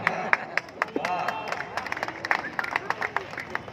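Scattered, thin clapping breaks out from the audience at a Hindi kavi sammelan poetry recital in Jabalpur. The sharp claps come unevenly over a murmur of crowd voices.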